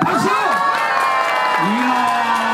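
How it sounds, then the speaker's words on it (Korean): Festival crowd at the Nakdonggang Garden cherry blossom event clapping and cheering loudly for contestant number one, with a host's voice calling out over the din. "1번에게 돈 줘라 박수"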